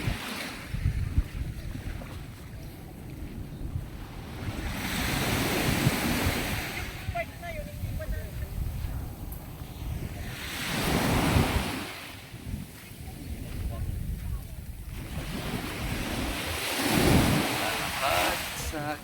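Sea waves washing ashore along a beach at Puerto Galera, a steady windy surf with swells rising and falling every few seconds, wind buffeting the microphone, and faint voices in the background.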